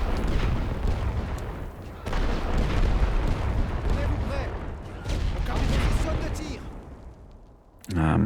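Artillery barrage in the First World War strategy game The Great War: Western Front, dense rumbling booms and crackling blasts rolling continuously, loud and heavy, fading near the end before a final burst.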